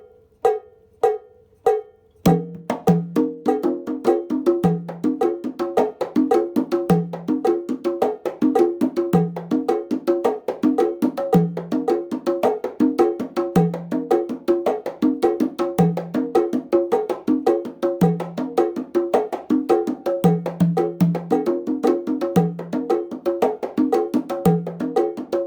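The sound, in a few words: conga pattern shifting between straight 4 and 12 feel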